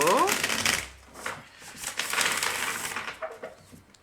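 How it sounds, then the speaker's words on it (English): Quick riffling of a card deck being shuffled, a burst of flicking followed by softer shuffling and handling noises, close by. "Let me shuffle this deck"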